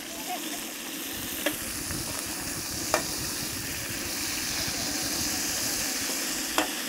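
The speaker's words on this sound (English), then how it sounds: "Oh, that sizzling is so satisfying. Yeah, it's just all the chicken fat coming out." Steady, close sizzling and crackling of chicken browning in a hot paella pan as fat renders out, with a few sharp clinks of a utensil against the metal.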